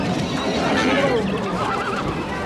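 Horses neigh and whinny at a rapa gathering of livestock handlers, loud and close, with hooves clopping and people talking amid the noisy crowd.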